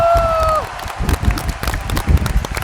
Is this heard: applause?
yes